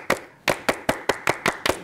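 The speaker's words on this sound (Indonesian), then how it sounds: "Tepuk Pramuka" A group performs a Pramuka scout rhythmic clap, eight sharp unison claps in a patterned beat, close and clear with no talk over them.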